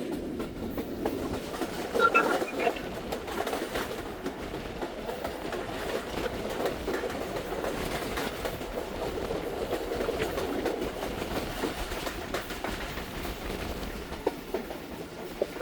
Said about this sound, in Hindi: ट्रेन पास कर रही है हमारी बेगमांझी रेलवे स्टेशन